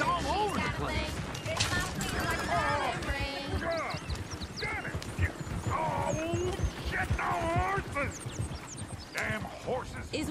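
Horses in the Red Dead Redemption 2 video game, with hoof clops, snorts and whinnies mixed with ducks quacking, heard under frequent character dialogue and game sounds over about ten seconds.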